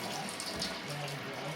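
Water pours into a pot during all-grain beer homebrewing, a brief steady splashing gush that sounds close and fairly quiet.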